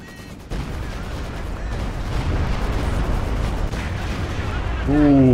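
Katyusha rocket artillery barrage in the World War II strategy game Company of Heroes 2: a dense, rumbling wash of scattered impacts and explosions that builds steadily, with a voice talking over it.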